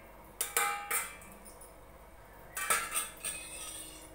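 A metal spoon clinks and scrapes against a bowl while mixing salt, ajwain and kalonji into flour, giving two short bursts of sharp clatters separated by a quiet pause.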